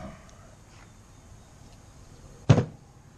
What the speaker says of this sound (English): Knocked my water off in the process.